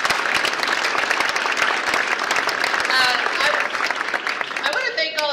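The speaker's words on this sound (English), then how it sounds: "if you can give them a round of applause," Audience applause for city staff at an evening civic presentation, sustained clapping from a room of people with some voices over it and a brief voice near the end.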